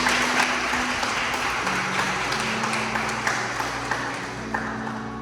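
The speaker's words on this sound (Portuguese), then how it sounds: "Você pode dar uma salva de palmas ao Senhor aí no seu lugar?" A church congregation offers a round of applause during a Portuguese-language sermon, steady dense clapping throughout with a sustained low tone beneath it.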